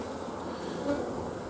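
Honey bees hum around an open hive frame, a faint, steady low drone with no clear breaks.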